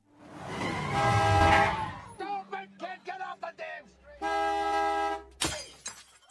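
A car nearly hits a young girl: a harsh, noisy burst with a blaring tone, then a sustained horn honk over a low rumble, amid scattered dramatic sound effects.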